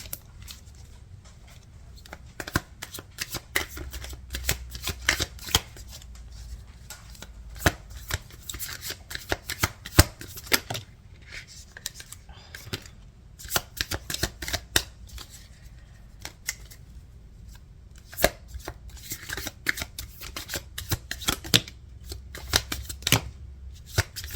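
A deck of tarot cards is shuffled again and again, with close, crisp riffles and snaps in irregular bursts over a quiet background.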